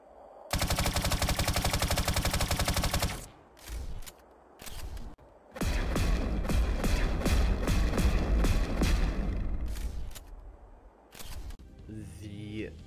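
Vanu faction weapons firing in the video game PlanetSide 2: a long buzzing automatic burst, short pulses, then a sustained rapid stream of shots ending in shorter bursts, with some speech mixed in.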